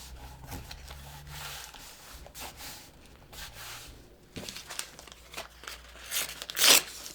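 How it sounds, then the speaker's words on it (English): Thick wallpaper having its top layer torn away by hand for a collage, heard as intermittent ripping and crinkling rustles of paper that build to a louder tear near the end. "So I just like to tear that top layer"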